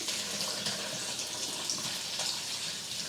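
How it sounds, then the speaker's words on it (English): Fire cider, a spicy vinegar tonic, poured from a jar into a bowl: a steady, close splashing stream of liquid running continuously for about three seconds with no speech. "So we're just gonna pour it in."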